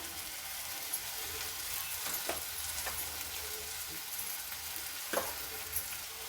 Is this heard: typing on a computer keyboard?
no